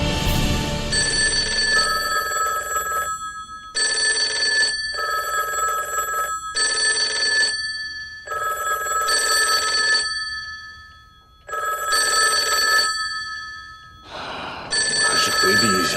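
Telephone bell rings in loud, regular bursts separated by short silences, repeating about eight times; a voice briefly speaks near the start between rings.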